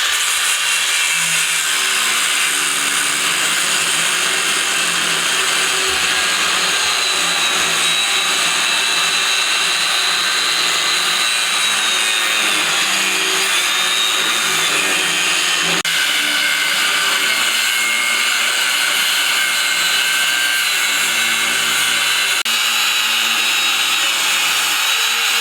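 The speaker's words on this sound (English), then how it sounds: "We're going to cut this one off now." A power tool cuts off a go-kart spindle during a two-stroke kart front-end rebuild, giving a loud, steady high-pitched whine that runs unbroken for the whole stretch with no talking.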